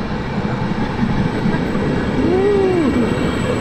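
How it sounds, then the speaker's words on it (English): Steady rumbling of a train in motion near Lake Garda, Italy, with a faint rising and falling squeal, a continuous mechanical drone heard from nearby. "Let's get on this train."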